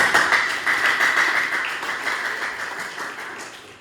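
Students in a classroom clap together during an Islamic religious education microteaching session, a brisk burst of applause that starts loud and gradually thins out, with no talking over it.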